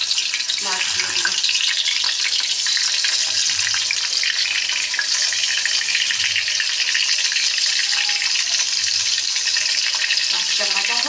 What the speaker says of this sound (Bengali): মাছটা ভাজা হোক,